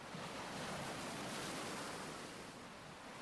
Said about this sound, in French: Peut-être même que vous entendez les bruits de la mer